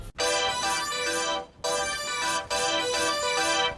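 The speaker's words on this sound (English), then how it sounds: "Boogie Days preset sounds like this" A bright, buzzy synth preset called Boogie Days from the Hive synthesizer plays three sustained, harmonically rich chords in a row, each cutting off sharply before the next, loud and alone.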